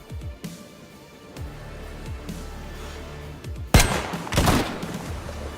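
Gunfire in the DayZ video game on the Sakhal map: a sudden loud burst of several close shots near the end, with a few sharp reports earlier, set against quiet game ambience.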